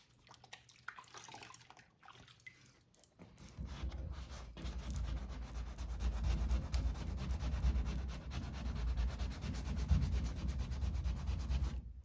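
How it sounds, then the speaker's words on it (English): Steady hand sanding of paint and masking tape, a continuous gritty rubbing that runs unbroken after a short quiet start, close and fairly loud with no voices. "You can see I'm actually sanding my masking tape away a little bit."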